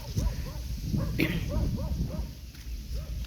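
A dog barks and yips in a quick, uneven series of short barks at moderate distance, fairly faint against low background rumble, in a rural Thai setting during flooding.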